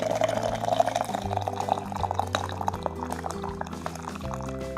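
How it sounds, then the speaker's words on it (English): Water poured into a teapot over herbal leaves for an infusion, a steady close liquid stream with gurgling and filling sounds, no talk. "See, we'll fill the bottom of this up and then fill it up with water."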